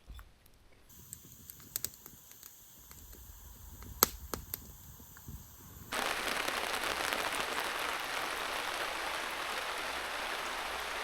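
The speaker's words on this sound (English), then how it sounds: "So it rained all last night, and it just rained again. It's still sprinkling." Light rain patters on a canoe campsite, a soft continuous hiss that thickens partway through after a few sharp ticks and drips. No one speaks.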